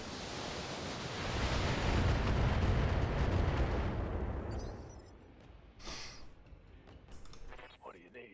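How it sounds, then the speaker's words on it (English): Missile barrage explosions in the BattleTech video game: a loud, dense rumbling roar of blasts that swells and holds for several seconds, then fades, followed by a few sharper crackling impacts. "Missile barrage!"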